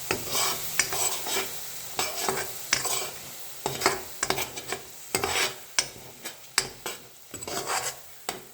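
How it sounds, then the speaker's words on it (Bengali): A spoon stirs coconut, green chili and mustard paste into spices frying in oil in a pan, repeated sharp scraping clinks against the metal over a soft sizzle, close and clear. "এই সময় দিয়ে দেবো নারকেল, কাঁচা লঙ্কা আর সর্ষে বাটাটা। ভালো করে মিশিয়ে নেব।"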